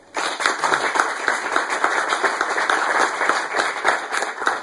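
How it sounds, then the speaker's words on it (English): A round of applause from an audience at a law school gathering: steady, fairly close clapping that holds at an even level throughout, with no talk over it. "We can just give them a round of applause."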